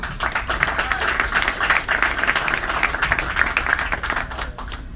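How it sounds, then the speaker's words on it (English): Sustained applause from a boxing press conference crowd, many hands clapping densely and steadily, fairly loud, tapering slightly at the end. "big round of applause to Mike Stafford"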